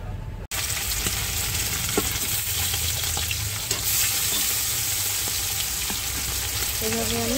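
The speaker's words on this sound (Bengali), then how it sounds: "এইভাবে আমি সব কটা মাছ ভেজে নেব।" Fish coated in salt and turmeric fries in hot oil in a wok, a loud, steady sizzle that crackles continuously from start to finish.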